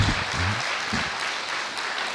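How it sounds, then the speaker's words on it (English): A seated audience at a talk gives a round of two-hand clapping, a steady, dense patter of applause, with a brief low voice at the start. "let's give him another 2-hand clap."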